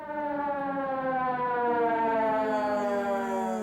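An ambulance siren wails in one long, steady, slowly gliding tone, loud and unbroken, with no voices over it.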